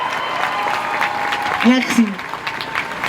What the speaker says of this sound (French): Allez-y, applaudissez, il n'y a pas de souci.